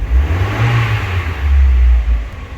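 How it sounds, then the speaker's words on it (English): Loud and close, the Megasquirt-equipped Mazda NB Miata engine blips again, rising in a brief rev and falling back to idle, then swelling once more, with no voices. "So initially when you rev it,"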